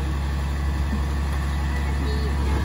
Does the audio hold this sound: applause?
no